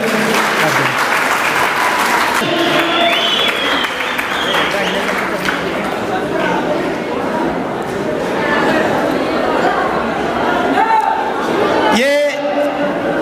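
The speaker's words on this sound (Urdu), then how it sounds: "ایک دفعہ پھر دلہا کے لیے تالیاں" Applause for a groom at a Gilgit-Baltistan cultural festival held at a boys' high school, sustained crowd clapping mixed with chatter and raised voices, fading and swelling over the stretch with a louder burst near the end.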